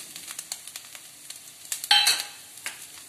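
Coriander powder and coconut sauté in a pan for a tamarind okra curry. Quick, crisp spatula taps and scrapes repeat over a light sizzle, swelling into a louder, busier burst midway, with no talking.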